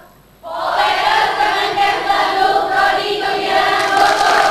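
Studio audience of an Indonesian health talk show breaks into sustained applause after a quiet moment, a dense, even wash of clapping that holds steady for several seconds.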